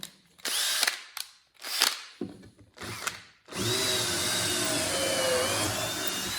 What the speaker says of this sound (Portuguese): vamos utilizar o escariador aqui